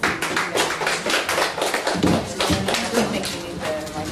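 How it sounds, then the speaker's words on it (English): Audience at a women's summit applauds a speaker, with dense, steady clapping throughout that has a few louder thumps and some faint voices mixed in. "So let's give her a round of applause."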